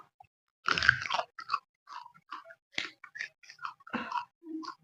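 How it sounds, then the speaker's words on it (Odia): Crunchy chewing of dahi gupchup during an eating challenge, close bursts of biting and crunching in an irregular rhythm with short pauses between, no talking. "ଚୋପା କାଟି ଭାଇ କଣ ଶବ୍ଦ ବାହାର କରିଦେଲୁ"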